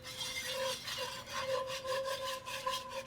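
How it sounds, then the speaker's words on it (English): A whisk scrapes steadily through flour and oil in a pot, making a roux for an alligator gar ball stew in Louisiana coastal cooking, with continuous rubbing, scraping strokes close up and no talk. "We're going to constantly whisk here."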